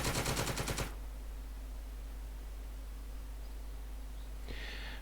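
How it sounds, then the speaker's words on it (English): Rapid machine gun fire in a World War II tank war video game with a Panzer IV: a loud, quick rattling burst under a second, followed by a steady hiss of background noise. "And we can even fire machine guns up the road."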